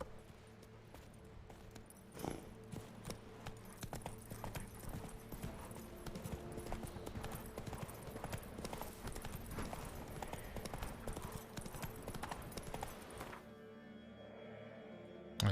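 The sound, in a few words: horse Roach galloping in the video game Witcher 3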